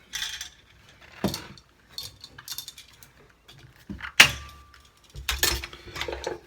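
Wire snipped from a single-pole light switch: a few sharp metallic clicks and cutter snaps with light handling rattles, close and isolated, separated by quiet gaps.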